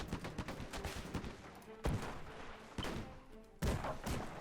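Gatling guns firing from an airship in the strategy game Airships: Conquer the Skies, a steady crackle of rapid shots with sharper bursts standing out every second or so, close and fairly loud.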